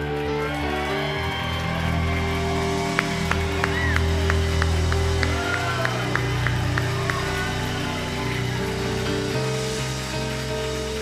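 Sunday morning church congregation bursts into a short stretch of clapping over sustained music, the scattered claps rising in the middle and then fading back under the held tones.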